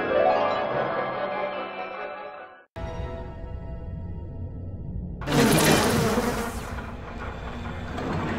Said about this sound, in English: Unleash insects against groups of enemies.